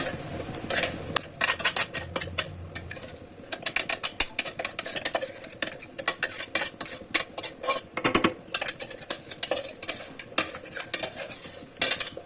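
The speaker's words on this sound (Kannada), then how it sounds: "ಪೇಸ್ಟನ್ನೆಲ್ಲ ಹಾಕಿ ನೀಟಾಗಿ ಮಿಕ್ಸ್ ಮಾಡಿ" A ginger, garlic and green chili paste being mixed into a pan mixture with a metal spoon, dense rapid scraping and clanking against the vessel, loud and close, continuing steadily with brief pauses, over faint sizzling.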